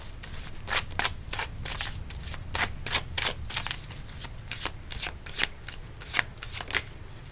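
A deck of tarot cards being shuffled by hand, a steady run of crisp riffling bursts close up with no talking.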